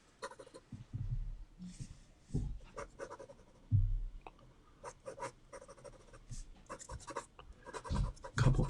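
A pencil sketches a horse on paper with short, irregular scratchy strokes and quick marks in uneven bursts, some louder scrapes among softer hatching, close and alone.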